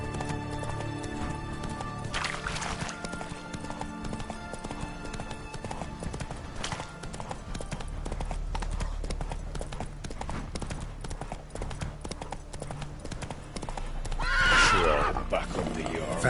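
Video game horse galloping with steady hoof clip-clops and a loud neigh near the end, under continuous game music and ambience, with someone speaking.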